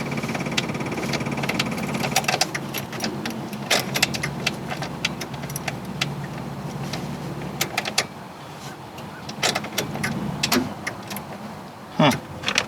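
A tiny Honda car's starter cranks in repeated whirring bursts between short pauses, with clicks and rattles mixed in, fairly close and moderately loud.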